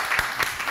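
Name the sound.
audience applause for comedian Adèle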